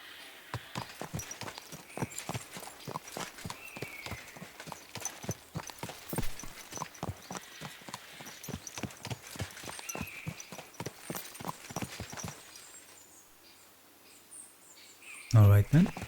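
Horse hooves clip-clop at a steady walking rhythm in the video game Kingdom Come: Deliverance 2, with faint birdsong behind. The hoofbeats stop near the end and a brief sound follows.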